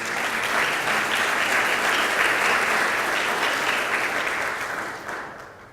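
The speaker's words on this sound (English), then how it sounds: "I'd like to start with a quick round of applause for our youth mayor here." An audience at a partner luncheon gives a sustained round of loud, close applause with dense overlapping claps. It fades slightly near the end.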